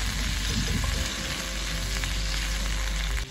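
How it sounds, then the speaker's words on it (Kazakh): Meat and onion fry in a hot cauldron for a mampar soup, giving a loud, steady sizzle that holds without a break, with no voices present. "Етіміз бен пиязымызды қызарғанша қуырып аламыз."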